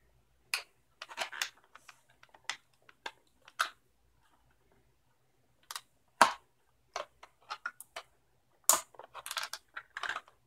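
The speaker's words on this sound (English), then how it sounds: "Gonna use nail clippers for these plastic twisty ties." Nail clippers snipping plastic twist ties off a boxed Star Wars die-cast action figure, sharp isolated clicks and snaps in irregular bursts, close and fairly quiet, with rustling handling noise between cuts and brief pauses.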